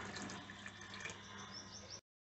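Water pours steadily into a bowl of rava dosa batter in a home kitchen, a continuous splashing stream that runs for about two seconds and then stops abruptly.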